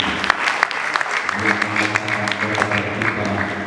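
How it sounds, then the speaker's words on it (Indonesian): A congregation at a regional church gathering applauds steadily in a large room. Dense clapping continues throughout, with sustained musical tones rising beneath it partway through. "Mari sekali lagi kita kasih aplaus buat Tuhan"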